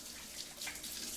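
A kitchen tap runs while something is rinsed under it, a steady close hiss of flowing water with slight splashy variation, alone without talk.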